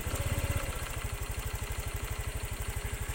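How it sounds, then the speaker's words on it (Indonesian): Motorcycle engine idling close by during a service check, a steady, smooth, even low putter of regular firing pulses. "Untuk suara mesinnya Pak, bisa dikatakan masih halus Pak, tidak begitu kasar"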